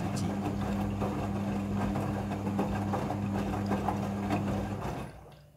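A Midea front-loading washing machine runs its wash cycle with a steady mechanical hum and whirring motor drone, joined by scattered clicks and water sloshing, then fades out at the end.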